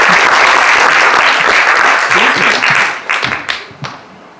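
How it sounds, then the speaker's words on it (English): Loud applause from a crowd, steady at first and then thinning out into scattered claps. "Can we give him another round, another round of applause?"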